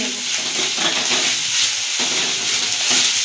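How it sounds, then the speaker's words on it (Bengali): Ginger, garlic and chili paste fries in a pan with a steady, close sizzle and light stirring scrapes, continuous throughout with no talking. "দিয়ে এটাকে আগে একটুখানি হালকা করে কষিয়ে নেব।"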